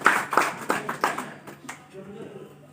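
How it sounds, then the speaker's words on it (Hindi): An audience claps in a steady rhythmic beat, several sharp, fairly close claps in a row that gradually weaken and trail off into quiet. "क्या बात है, जोरदार तालियां।"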